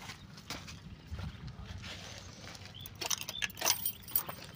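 A bunch of keys is handled and jangled nearby in a quiet setting, with soft intermittent metallic clinks and rattles that grow a little busier toward the end.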